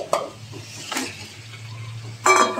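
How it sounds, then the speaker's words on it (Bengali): Mutton added to a pan of spiced tomato and frying, with a few sharp sizzling bursts and spoon stirring scrapes over a low steady hum, close and without talk. "এবারে এর মধ্যে আমি মটনটা দিয়ে দেবো।"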